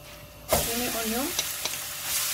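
Chopped onion hitting hot olive oil in a pan and frying with a steady broadband sizzle, a brief burst at the start, with faint voiced sounds in the middle and a few soft knocks.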